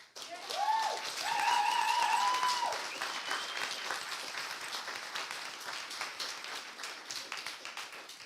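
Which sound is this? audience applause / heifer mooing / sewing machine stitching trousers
audience applause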